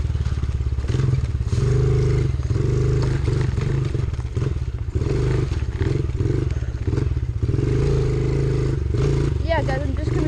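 Dirt bike ridden along off-road trails, its engine droning steadily at close range through the whole stretch, with rattling and clatter over rough ground and brief throttle changes; a rider's voice is heard over the engine.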